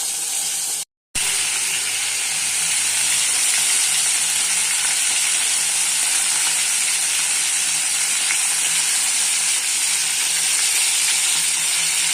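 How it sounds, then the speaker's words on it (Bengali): Soft fish fried in a pan for jhal lote produces a steady, close sizzle with bright hissing spatter that runs unbroken apart from a momentary gap near the start. "মাছগুলো ভাজা হয়ে গেছে, আমি তুলে নিলাম"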